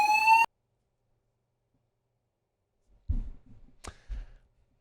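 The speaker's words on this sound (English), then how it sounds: "An alarm sounded during Blake Baker's answer talking about Harold Perkins" An alarm goes off in a hot room during an LSU football press conference: a brief, bright electronic tone with stacked harmonics, cut off abruptly after about half a second. Silence follows, then scattered low muffled knocks and rustles.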